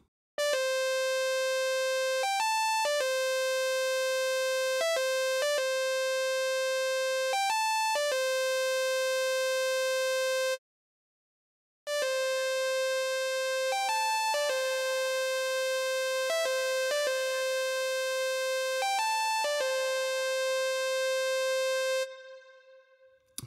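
A bright synthesizer lead plays a sustained melody of held notes with a short pause, ending in a lingering Valhalla Shimmer or VintageVerb reverb tail.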